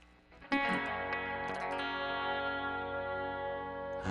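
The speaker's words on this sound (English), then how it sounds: "I like this dispatch master because it's reverb and delay in one pedal" A guitar run through a Dispatch Master pedal combining reverb and delay: a strummed chord blooms after a brief quiet start, then rings out with long washy echoes and shimmer, sustaining loud to the end.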